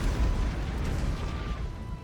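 A robot explodes in the video game Baldur's Gate 3, a dense rumbling low boom that holds loud for about two seconds with no speech over it.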